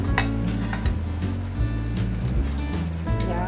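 Sauce is poured a little at a time over pancit canton noodles in a hot pan, setting off a steady, loud crackling sizzle that runs throughout, with a low hum underneath.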